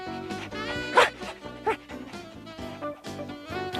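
Cartoon dog from the Garfield Thanksgiving special giving a few short barks and yips over a bouncy musical score, the sharpest bark landing about a second in and another shortly after.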